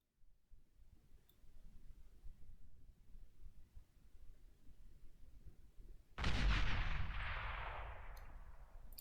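A single heavy bomb blast strikes buildings in the strategy game Beyond All Reason, a sudden loud boom that breaks a quiet low rumble of clicks and then trails off in a long noisy decay.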